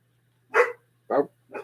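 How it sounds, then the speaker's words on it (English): House dogs downstairs give three short, sharp barks spaced about half a second apart, fairly close and clear over a faint low hum. "So I love my dogs, but they love making noises."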